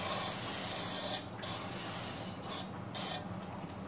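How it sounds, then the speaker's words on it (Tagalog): Cooking spray, a roasting spray, hissing from a can into a cake pan for a yogurt cake, in close bursts of steady spray separated by short pauses. "ispira natin siya nito para hindi siya didikit"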